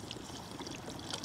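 Water is poured into a cast-iron Dutch oven of Irish stew at a woodland camp, a soft continuous trickling pour heard close up and fairly quiet.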